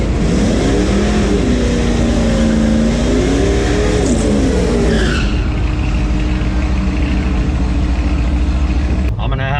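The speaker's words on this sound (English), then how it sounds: "It's pretty much just gonna be an 8th mile race." A Jeep Trackhawk launches in an eighth-mile drag race, engine roaring hard and loud with rising, wavering revs and tire noise for about five seconds before fading, while a voice talks over it.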